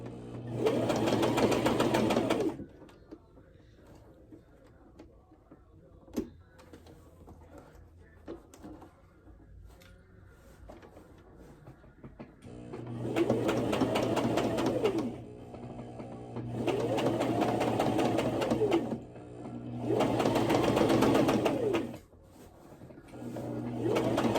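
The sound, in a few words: sewing machine stitching a skirt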